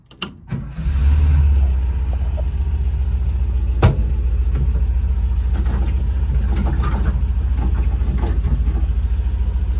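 A 1973 Volkswagen Kombi engine cranks briefly and catches, then settles into a loud, steady low idle with an even rhythmic thrum and a single sharp knock partway through.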